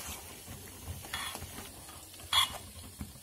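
Homemade herbal hair oil of amla and hibiscus leaves simmers quietly in a pan while being stirred, a faint soft bubbling sizzle with gentle scraping strokes and one sharp metallic clink near the end.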